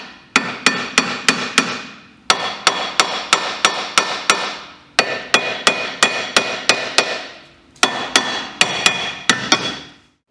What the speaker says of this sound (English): I tap around them and tap on the end to hopefully break them loose a little bit